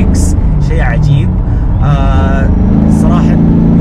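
Steady close rumble of a BMW M3 engine fitted with a Greddy blow-off valve, short hissing bursts at the start and end, with people talking over it.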